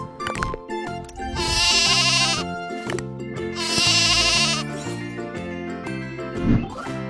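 A sheep bleats twice, long and wavering, loud and near, over a steady tonal background with a light jingle toward the end.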